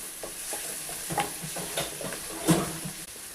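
Onions with crushed ginger-garlic paste fry in butter with a soft, close sizzle. A spoon stirs in a quick series of light scrapes and taps against the pan.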